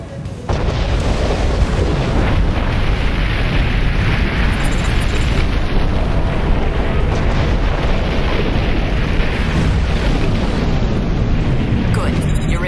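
Heavy cannon fire in the mech game Armored Core 4 Answer, a continuous loud roar of booming blasts and explosions that fills the whole stretch without pause.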